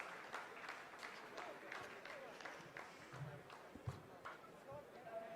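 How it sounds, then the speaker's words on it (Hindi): Scientists in mission control burst into applause after the Chandrayaan-3 lander completes a descent phase toward the Moon's south pole; a steady crowd clapping continues throughout, with a commentator's voice over it. "आप इस तालियों के गड़गड़ाहट को सुन सकते हैं"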